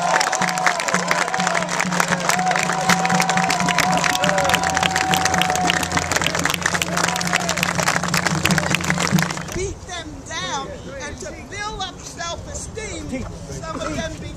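A crowd at a public gathering applauds loudly with dense, continuous hand clapping and cheering that drops to scattered claps and murmuring voices near the end.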